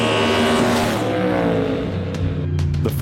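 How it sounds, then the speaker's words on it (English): A Ford Mustang GT3 race car engine roars loudly at high revs, its pitch sweeping down as it passes, with sharp bursts near the end. "It's almost time to go racing with the new Mustang GT3."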